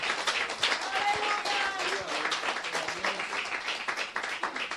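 A church congregation breaks into sustained applause, a dense, steady wash of clapping from many hands filling the room, with voices mixed in.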